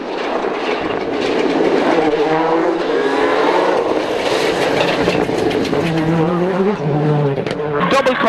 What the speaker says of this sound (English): On the approach to the gap, he's really drifting